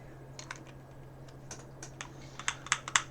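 Light keystrokes on a mechanical keyboard fitted with orange cream switches, soft scattered clacks that grow into a few crisper, louder presses near the end, recorded close in a quiet room.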